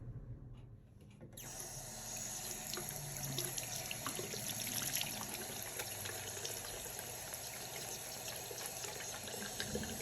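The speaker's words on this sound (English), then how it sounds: "I'm still gonna wash my hands fully like I normally would, just for the sake of the video and the lather" Hands being washed at a sink with an oatmeal, milk and honey bar soap: after a brief quiet start, a tap runs steadily and water splashes continuously over lathering hands.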